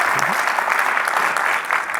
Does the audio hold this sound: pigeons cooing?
no